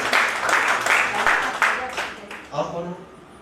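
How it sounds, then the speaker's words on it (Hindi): Audience applause at a poetry festival in Palam, Delhi: a crowd claps in dense, loud bursts for a couple of seconds, then the clapping thins out as a voice takes over near the end. "जोरदार तालियां बजाइए भाई।"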